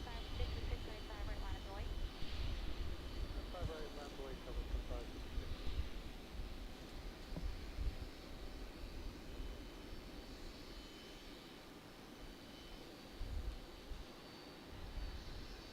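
A JetBlue airliner roars steadily at Raleigh Durham airport, a broad distant jet rumble that holds level for the whole stretch, with faint voices talking underneath.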